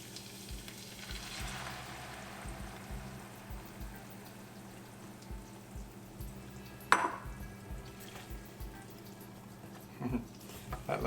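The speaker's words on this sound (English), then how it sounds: "Now I'll add the onion puree." Onion puree hits a hot pan while cooking rajma, giving a steady low sizzle and frying hiss with a few stirring scrapes and a sharp clatter of a utensil partway through.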